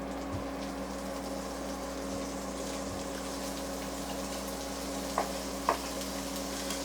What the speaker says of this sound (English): So I'll use about half of this oil here to help render out this bacon.